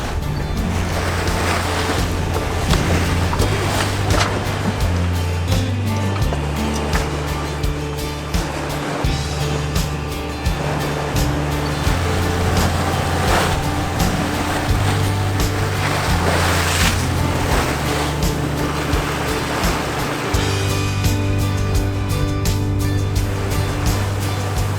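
A sailboat pushes through gusty, choppy water on the approach to a snowy fjord, with steady loud wind and water rushing past the hull and a low engine-like drone running throughout.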